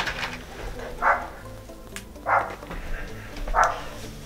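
A dog barks three times, evenly spaced, at a moderate distance over a steady background hum.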